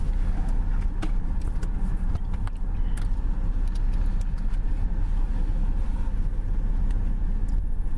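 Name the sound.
car driving in a played recording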